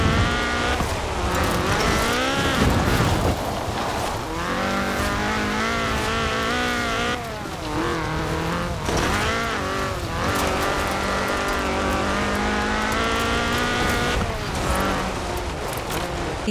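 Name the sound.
Ford RS 1800 rally car driving, video game Forza Horizon 4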